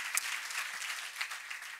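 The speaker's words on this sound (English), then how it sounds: "You can clap if you want to." Conference audience applause during a tech talk, a soft, distant-sounding wash of many hands clapping continuously for a couple of seconds.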